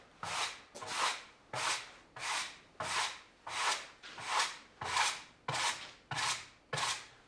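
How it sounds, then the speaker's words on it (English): Rough sawn lumber boards being brushed off in about ten even strokes, each a short rasping swish with a brief gap between, close and moderately loud, no talk. "So I'm going to give them a quick brush off."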